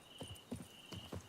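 Roach the horse's hooves in The Witcher 3: Wild Hunt, four evenly paced clip-clop steps at a walk over a faint insect-like whine, close and fairly soft, nobody talking.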